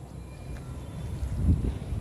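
Low, rumbling wind buffeting the microphone outdoors, a steady muffled roar that swells briefly before easing, with no speech.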